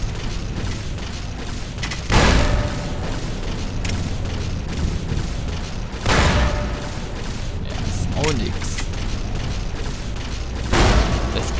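Grenade explosions in the video game Fallout New Vegas, three heavy booms spaced a few seconds apart over a dense game soundscape, while someone talks throughout.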